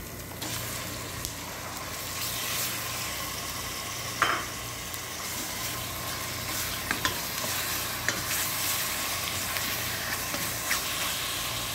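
Beef dropped into a hot pan with sautéed onion and garlic for a Filipino potato soup, frying with a steady sizzling hiss throughout, broken by a few short stirring scrapes and clinks, close and alone with no talk.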